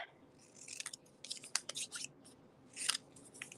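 Scissors snip through paper for a stamping craft project, a series of quick crisp cuts close up, loudest in bursts near the middle and end, with no talking.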